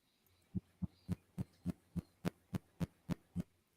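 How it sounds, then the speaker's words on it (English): Rhythmic pigeon-like cooing coming through a microphone, a dozen evenly spaced low pulses about a quarter second apart, clear and alone against a faint hiss. "Sounds like a pigeon."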